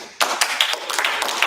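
Scattered hands clap in a hall, a loose cluster of sharp individual claps starting abruptly and repeating irregularly at close range, sounding like a small group rather than a full ovation.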